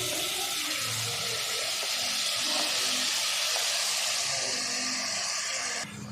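Half a kilo of washed mutton dropped into hot masala for mutton curry, giving a loud, steady broadband sizzle and hiss that runs unbroken for several seconds close by, easing slightly at the end, with no talk.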